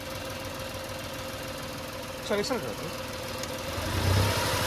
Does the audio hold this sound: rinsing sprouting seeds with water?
no